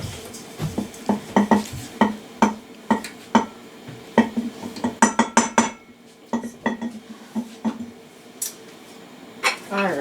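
Washing soda for homemade laundry soap is scooped into a mixing bowl, giving a run of sharp clinks and scrapes at an uneven rhythm, close and moderately loud, with no talking.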